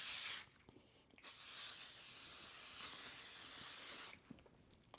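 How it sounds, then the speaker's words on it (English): Two long, breathy sprays of makeup setting spray hiss close by, one brief and one lasting about three seconds, with a short pause between them. "we're just going to take this and spray it all throughout"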